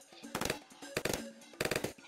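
Sniper monkey gunfire in the tower defense video game Bloons TD6, three quick bursts of rapid sharp shots spaced evenly, fairly quiet and close.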